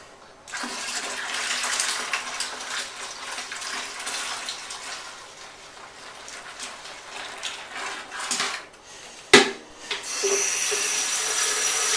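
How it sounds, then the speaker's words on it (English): Water poured from a handheld pitcher into a brewing pot for an oatmeal stout: a continuous splashing rush that wavers in strength, broken briefly by a sharp knock from the pitcher before the pour resumes. "We're going to start adding water."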